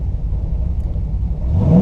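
A 1979 Z28 Camaro with a small block engine rumbles at close range, its low exhaust note swelling into a short rising rev near the end of the brief burst.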